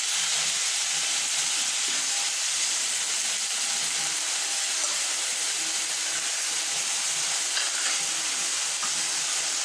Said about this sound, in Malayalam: ഓക്കെ, ഇനി നമുക്ക് ലിവർ ഇട്ട് കൊടുക്കാം.